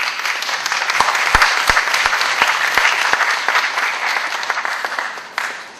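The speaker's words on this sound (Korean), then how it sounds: "박수 한번." An audience breaks into applause, a dense, even wash of many hands clapping that holds steady for several seconds before easing off slightly at the end.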